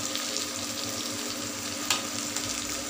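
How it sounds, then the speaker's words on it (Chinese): Chicken pieces stir-fry in a pan for homemade chicken curry, giving a steady close sizzle with occasional scraping stirs and a small clatter near the two-second mark, with no voices. "再炒一下，"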